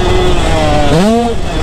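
Two-stroke dirt bike ridden hard, its engine screaming at high revs with a rising pitch sweep as the throttle is worked, loud and close amid wind noise.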